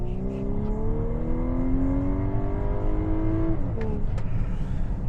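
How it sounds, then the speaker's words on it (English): A 2024 Volkswagen Atlas turbo SUV accelerates hard in sport mode, its engine note climbing steadily in pitch over several seconds before a gear change drops it back, loud and close with a constant rushing undertone. "You can definitely hear the turbo kicking in"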